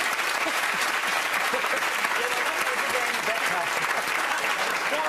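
Studio audience of the comedy panel show 8 Out of 10 Cats Does Countdown giving a sustained, even burst of applause, with scattered voices faintly underneath.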